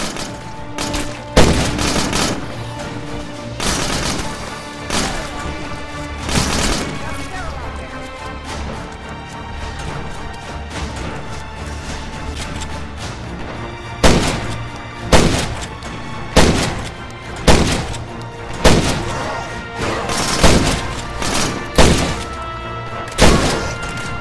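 Gunfire in the zombie survival game State of Decay, with loud repeated shots cracking out in irregular bursts early on and then as a steady run of single heavy blasts near the end.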